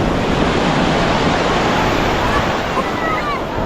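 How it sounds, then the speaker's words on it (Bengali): Big sea waves at Digha beach crash and roar in a loud, continuous wash of surf close by, with wind buffeting the microphone throughout. "বড় বড় ঢেউ আসছে"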